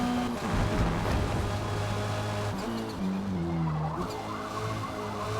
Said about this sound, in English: Here I completely blow the corner on the new tires.